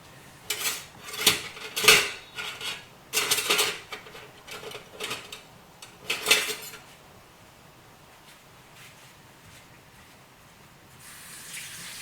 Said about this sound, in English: So I'm going to go ahead and cut the vegetables.